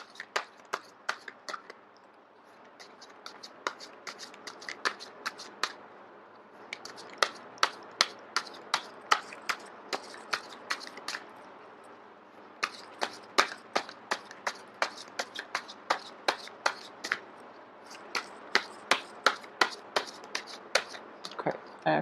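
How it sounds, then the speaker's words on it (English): A deck of cards is shuffled until a card drops out, a rapid series of crisp riffling bursts repeating in short runs, close and fairly quiet with brief pauses between. "I am going to shuffle until the first card drops out."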